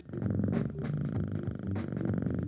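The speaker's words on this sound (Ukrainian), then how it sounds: "якщо ви будете чути нявкання, урчання, муркання і деякі звуки голуба" A cat purrs steadily and close up in a home studio, a soft continuous rumbling purr with a rhythmic pulse and slight breathy accents, heard alone with no talking.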